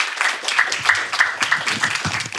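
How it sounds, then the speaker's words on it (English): An audience at an inter-religious reading event claps steadily to welcome a speaker, a dense, continuous patter of many hands sustained for a couple of seconds. "let us now give a warm welcome by giving her your applause to Miss Shilpa"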